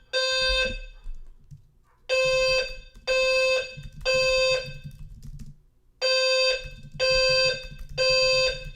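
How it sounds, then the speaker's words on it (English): An apartment fire alarm sounds in repeated loud electronic beeps in groups, with pauses between them, close by, over low background rumble and muffled voices. "Fire alarm went off."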